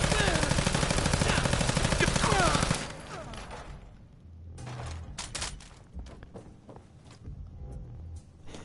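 Automatic weapon in Fallout 4 fired in a dense, rapid, continuous burst for about three seconds, followed by scattered quieter shots and thuds with a voice talking over them.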